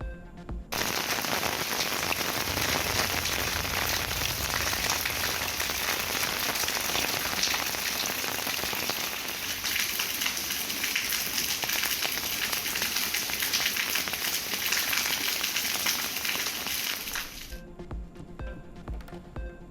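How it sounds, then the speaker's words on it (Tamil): Heavy rain pours down steadily in the Vasudevanallur area, a loud, dense, continuous hiss of drops striking surfaces for most of the stretch before stopping abruptly near the end. "வாசுதேவநல்லூர் சுற்றுவட்டார பகுதிகளில் கொட்டி தீர்த்த மழை."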